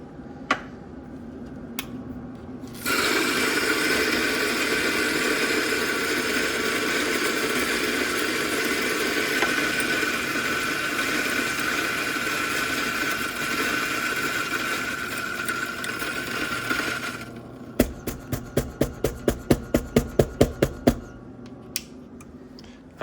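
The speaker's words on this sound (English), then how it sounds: "Toss it in my grinder." An electric coffee grinder grinds La Cabra coffee beans in one loud, steady burst of about fourteen seconds, then stops. A string of sharp, evenly spaced ticks follows.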